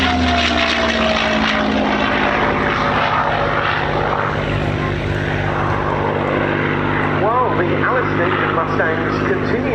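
A propeller plane, a P-51 Mustang with a Rolls-Royce Merlin engine, roars steadily overhead at an air show, loud and continuous throughout, with a voice commentating over the engine drone.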